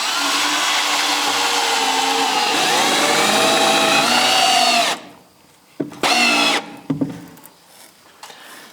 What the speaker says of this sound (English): Take our pilot bit, and then we'll maintain that same angle going out at around 1/2 inch or 1/4 inch per foot